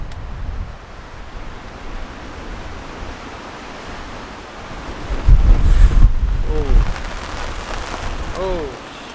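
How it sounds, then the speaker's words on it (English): Powerful wind gusts sweep over a tent campsite during a rain storm, a continuous rushing roar that swells into a louder gust partway through before easing again. "there is some huge wind gusts coming through"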